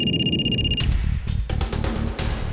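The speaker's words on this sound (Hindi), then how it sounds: "सर, आशा के ससुर का फोन है।" A phone rings briefly with bright electronic tones at the start, then cuts off, leaving a steady, pulsing low rhythm underneath.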